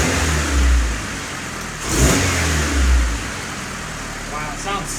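A turbocharged car with a repaired turbo downpipe and its wastegate dump tube plugged revs hard twice, with a deep surging exhaust rising and falling close by over a steady idle.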